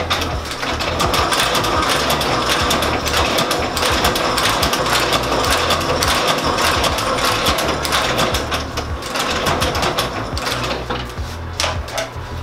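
A sewing machine stitches soles onto a pair of Santoni loafers during an orange sole replacement, running as a loud, steady, fast mechanical clatter that continues unbroken from start to finish.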